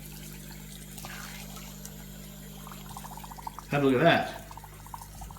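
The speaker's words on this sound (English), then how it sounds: "Now, can you hear that bubbling?" Dry ice bubbles and fizzes in regular tap water while the tap runs, a steady low churning that stays faint under a brief burst of nearby speech.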